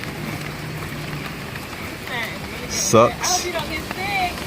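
Heavy rain pours down outdoors in a steady, dense hiss while a man changes the oil on a 2002 Toyota Camry, with his voice speaking close over the downpour.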